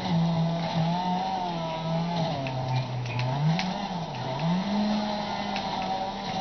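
A race car's engine drones and revs with shifting pitch while the car drifts in the rally game Dirt. Tires squeal and skid continuously, loud and close, with no talking over it.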